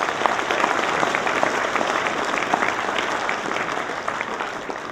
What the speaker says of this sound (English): Let's give Specialist Stolica a round of applause